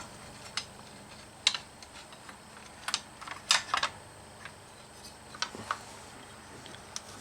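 Small, faint plastic clicks and ticks as a top cover is fitted onto a boat switch, coming in scattered close bursts with no talking.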